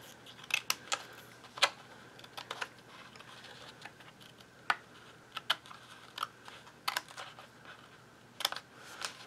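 Sharp scissors trim along the edge of a paper page in a mini album, short, sharp snips at an irregular pace, close by against a quiet background.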